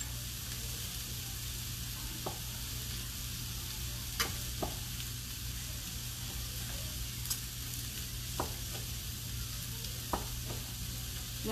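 Skirt steak for fajitas sizzling on a hot pan, a steady close hiss of frying with occasional sharp pops and crackles over about eleven seconds, no voices.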